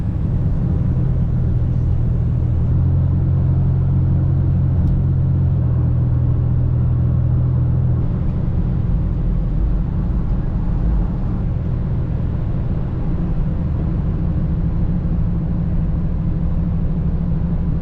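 Steady low road rumble and engine drone from inside a car cruising on a highway through mountain country, constant and loud with no speech.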